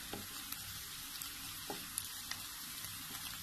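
Chopped onion sautés in a pan for a Pakistani dhaba-style urad (maash) dal, giving a steady close sizzle with a few soft clicks of stirring, and no voices.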